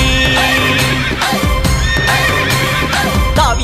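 A horse neighs and whinnies amid clip-clopping hoofbeats, woven loudly into a dense Tamil devotional song with continuous music.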